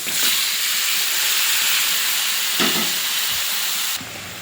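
Marinated chicken dropped into hot oil with fried onions, sizzling loudly and steadily with a hissing spray, dipping briefly then easing to a quieter fry at the end.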